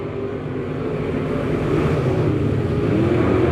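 Hornet-class race cars accelerate together at a green-flag restart on a short oval, a loud droning roar of several engines that builds steadily as they pull away, with no voices.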